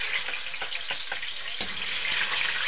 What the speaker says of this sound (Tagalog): init na tong kawali natin. Lagyan na natin tong bawang.